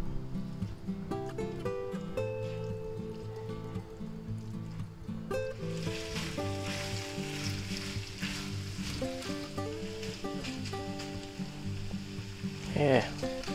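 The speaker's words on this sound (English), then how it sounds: "now let's put in our sausages" Sausages for garlic spaghetti sizzle steadily in a hot pan, a continuous frying hiss partly under background music, with a brief louder burst of stirring near the end.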